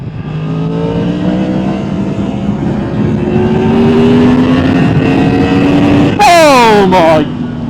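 A Yamaha XSR900 GP motorcycle accelerates hard, its engine note climbing steadily in pitch and loudness over several seconds, then dropping sharply with a quick series of rising revs as gears change; wind noise is heavy throughout.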